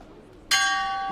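Opening bell of a women's 60 kg lightweight amateur boxing final at Kielce 2021, a single bright metallic ding striking sharply and ringing on with a long sustained tone over quiet arena ambience.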